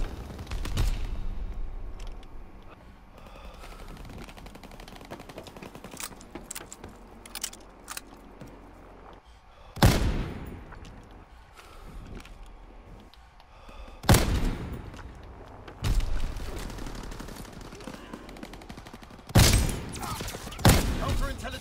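A PTRS anti-tank rifle fires in a World War II shooter, loud sharp cracks spaced several seconds apart over a quieter bed of game ambience, with broadband bursts standing well above the background.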